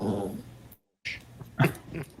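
A dog wanting to burrow under a blanket growls and grumbles softly in short, close bursts split by a brief silence, with no speech.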